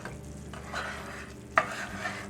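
Flour gravy made with chicken drippings and lard is stirred over low heat in a cast iron skillet, giving a steady close scraping and gentle bubbling sizzle with one sharper utensil knock near the end and no talking.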